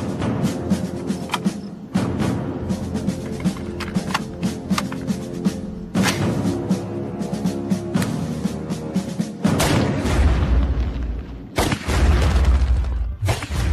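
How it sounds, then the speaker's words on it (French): Bullets fired at an artificial asteroid, with repeated loud booming impacts and sharp shattering cracks separated by short gaps, each hit ringing out over a background hum. "Ces impacts de balles sont comparables aux collisions de la ceinture d'astéroïdes."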